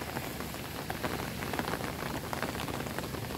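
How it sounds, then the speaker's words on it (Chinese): Steady, dense rainfall patters on small white flowers and surrounding surfaces in a garden at Zhuxi, Tainan, Taiwan, a close, even hiss of drops with no voices. "现在在下雨"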